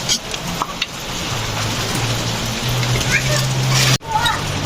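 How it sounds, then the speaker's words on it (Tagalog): Soft, steady hiss of light rain pattering outdoors, a continuous drizzle with a faint low hum underneath. "Nagsisimula na nga umambon-ambon dyan guys oh."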